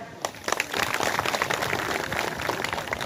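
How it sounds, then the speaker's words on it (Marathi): Audience at a Swami Samarth temple gathering breaks into applause, a burst of many hands clapping that quickly swells into sustained, dense clapping from a crowd. "तेव्हा त्यांच्यासाठी एक टाळ्या."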